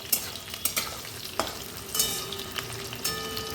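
Small mourola fish pakoras deep-frying in hot oil, a continuous bubbling sizzle broken by several sharp clinks and stirs of a utensil against the pan.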